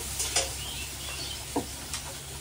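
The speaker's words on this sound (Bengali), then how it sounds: "পালের শাকটা ভাজি বসিয়ে দিয়েছি, পালের শাক ভাজি হয়ে গেল" Spinach frying in a pan at home, a low steady sizzle with a few soft scrapes and clicks of stirring, no voices.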